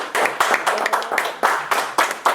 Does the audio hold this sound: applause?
yes